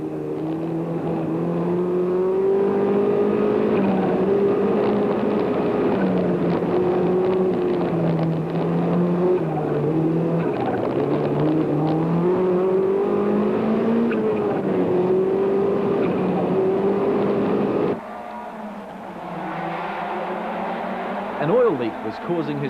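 Rally cars race on the Maramarua stages of the 1987 Rally New Zealand, one engine droning steadily at high revs for a long stretch before dropping off, with a commentator speaking over it.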